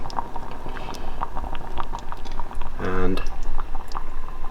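Brisket birria broth bubbles steadily in a pot over a lowered flame, a continuous soft simmering patter under a speaking voice.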